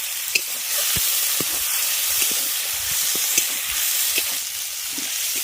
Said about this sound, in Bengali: মশলাটাকে খুব ভালো করে কষিয়ে নিই তার জন্য জল দিয়ে দিচ্ছি যাতে মশলাটা না পুড়ে যায়